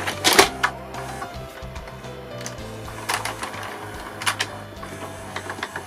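A small cassette deck mechanism whirs and clicks nearby, with sharp mechanical clunks at the start and several more scattered through the run.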